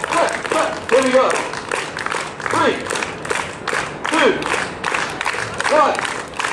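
Street show crowd clapping hands in steady rhythmic bursts, loud and close, with a voice calling out over the claps.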